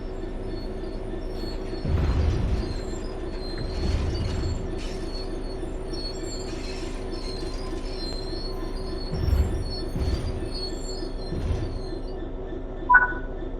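A train in a railway simulator game brakes with its wheels squealing, a steady rolling rumble under repeated low thumps and a sharp high squeal near the end, with no talking.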